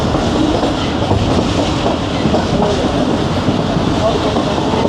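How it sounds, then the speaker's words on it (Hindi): The Jaffar Express rolls into Chaklala station with a loud, constant roar and rumble of wheels on the rails, heard close by from the moving train. "पहुंच रही है ट्रेन हमारी चकलाला स्टेशन"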